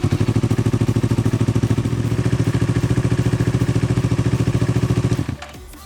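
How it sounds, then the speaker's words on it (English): A Yamaha R3 motorcycle engine, started during an oil change, runs loud and close with a rapid, even thrumming pulse for about five seconds before cutting off and falling quiet. "we're gonna turn on the bike right now to cycle the oil"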